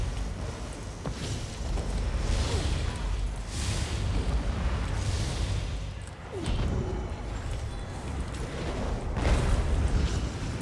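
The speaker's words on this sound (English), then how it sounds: "Look at these explosions." Spell explosions from combat in The Elder Scrolls Online boom and rumble repeatedly in heavy, dense bursts, forming a loud, continuous wash of blasts with no pauses.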